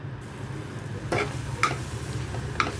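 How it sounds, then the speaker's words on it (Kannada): Spicy tomato pickle cooking in oil on low gas, stirred in a pan: a soft continuous sizzle with a few sharp scraping clicks of the spoon against the vessel. "ಅಲ್ಲಿ ತನಕ ನಾವು ಗ್ಯಾಸ್ ಮಾತ್ರ ಚಿಕ್ಕದಾಗಿಟ್ಟು ಸರಿಯಾಗಿ ಮಿಕ್ಸ್ ಮಾಡ್ತಾ ಇರಬೇಕು."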